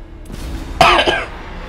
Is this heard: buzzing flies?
no